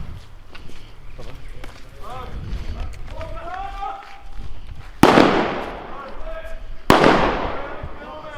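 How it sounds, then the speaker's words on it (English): An airsoft grenade bursts nearby at an outdoor skirmish, two sharp loud blasts in quick succession with talk and movement around them. "someone's just lobbed a grenade over to us"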